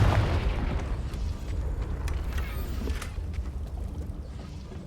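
A Confringo fire spell goes off in Hogwarts Legacy, a heavy booming blast that rumbles loudly at the start and then settles into a lingering low roar that slowly fades.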